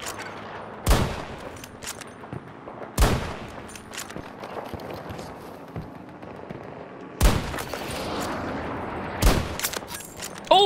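Sharp, widely spaced gunshots echo over a steady background of distant battle noise in the Battlefield 2042 video game, with several single loud cracks spread across the scene.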